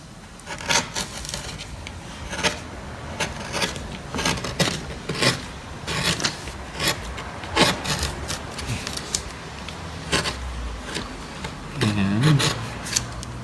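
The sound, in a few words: carving wood with a gouge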